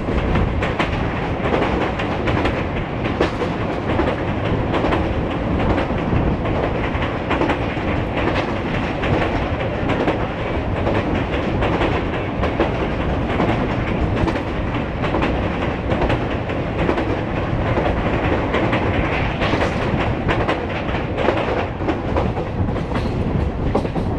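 Humsafar Express train accelerating across the Tungabhadra river bridge after a stop, a loud, steady rumble with rapid clickety-clack of wheels over rail joints and a constant roar throughout, heard from aboard.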